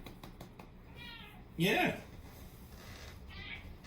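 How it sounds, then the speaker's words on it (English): A pet cat named Rusty lets out one clear, loud meow near the microphone, with a person talking quietly before and after it. "Here's Rusty the cat."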